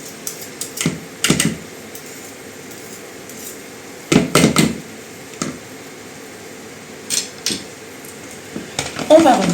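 Leek and ham filling stirred in a pan: intermittent clattering scrapes and knocks of a utensil against the pan in short bursts with pauses between, over a quiet background.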